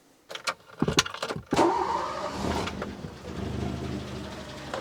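A Renault 25 V6 Turbo engine cranks and starts after a few clicks, then settles into a steady idle, heard close up with no talking.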